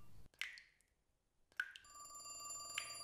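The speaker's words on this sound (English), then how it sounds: "I didn't even hear the phone ring at first, but then I heard it loud and clear." A telephone rings in the video game The Cat Lady. There are three separate bright, clear rings, with a quiet pause after the first, and a faint tonal background is heard after the second ring, with no talk.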